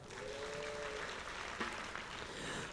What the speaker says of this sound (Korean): 우리 찬양단은 그래서 박수 한번 주세요.